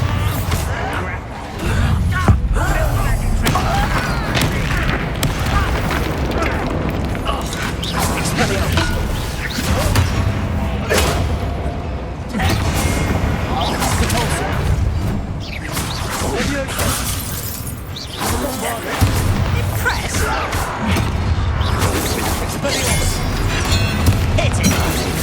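Repeated blasting spells in Hogwarts Legacy on PC go off as heavy booms, crashes and shattering debris over about twenty-five seconds, with whooshes and mechanical clatter between them and voices speaking at times.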